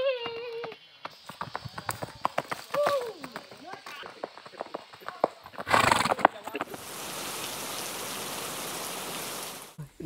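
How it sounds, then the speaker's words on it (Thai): A horse ridden bareback at a farm neighs at the start, then its hooves clip-clop in an uneven rhythm while people talk nearby, and steady rain noise takes over toward the end. "ขี่ม้าแบร์แบ็คเลยนะเว้ย"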